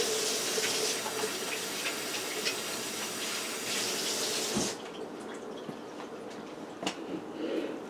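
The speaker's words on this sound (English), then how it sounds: "Wash the hand one more time" Tap water runs in a steady, splashing stream while hands are washed beneath it, then the flow drops to a quieter trickle and dripping with faint handling sounds.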